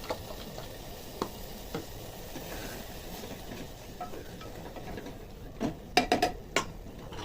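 Prepared masala goes into a pot of kidney bean dal with tomatoes, with a faint background hiss and scattered soft clinks that end in a short cluster of louder metallic taps from a spoon against the pot.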